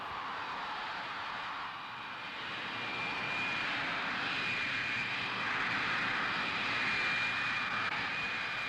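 An F-111 swing-wing fighter-bomber flies past with a steady, roaring jet drone and a thin sustained whine, swelling slightly louder toward the end with no talk over it.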